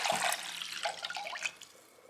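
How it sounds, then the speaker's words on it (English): Water is poured from a tap or jug into a cooking pot already holding white vinegar, a soft, steady splashing stream lasting about two seconds that trails off near the end. "I'm going to add also some water."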